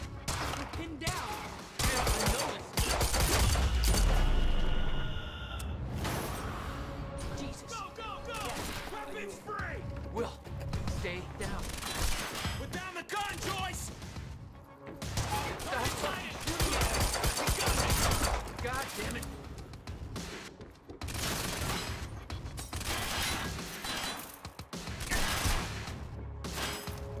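Bursts of automatic gunfire in the video game Quantum Break run through a dense, loud action scene, with rattling shots layered under music and effects.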